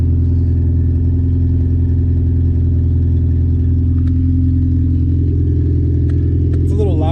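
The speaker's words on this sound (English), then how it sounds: "Car's a little loud, but you see she's running in the background." K-swapped car engine idling while it warms up, a loud steady low drone running the whole time with a faint click here and there, and a voice speaking briefly over it near the end.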